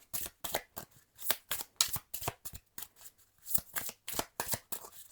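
Oracle cards shuffled and drawn by hand, a quick run of crisp riffling slaps and flicks in an uneven rhythm, close and fairly quiet, with no voice over them.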